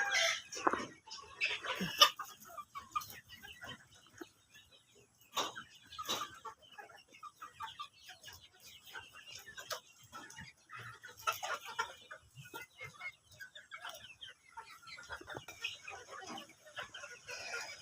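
Many 80-day-old Fayoumi chickens on a poultry farm in Taraganj, Rangpur, cluck and chatter continuously at moderate volume, with the occasional louder squawk or crow rising from the flock.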